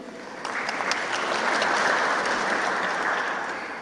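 An audience bursts into sustained applause as a panel member is introduced at a lie detector show, swelling quickly and holding dense and loud before easing slightly at the end.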